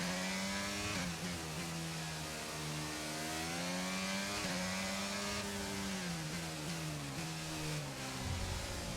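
An F1 race car in the F1 22 video game runs at full throttle, its engine a loud, continuous high-pitched whine that rises and falls with gear changes and cornering across the Australian GP circuit, with no voices over it.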